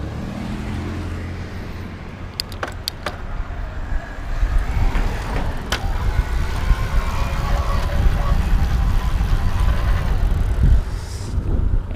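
Giant Quick-E+ e-bike with a Yamaha motor ridden in lower gears, heard as continuous road and wind rumble that grows louder after the first few seconds, with a few sharp clicks early on.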